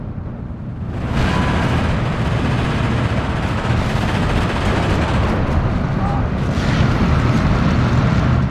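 Mortar fire during a competitive video game match thunders as a dense, continuous roar of blasts that starts abruptly after a second and stays loud throughout, with a voice talking over it.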